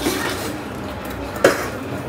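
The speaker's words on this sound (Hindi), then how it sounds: "वही बर्तन धुल लेती हूँ" Kitchen utensils, pots and dishes being washed, with soft clinks and scrapes of metal cookware and one sharper clank over a steady background wash.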